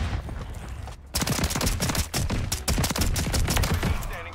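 Modern Warfare 3 video game gunfire rattles out in rapid, loud automatic bursts, a dense stream of shots with only a brief gap near the start.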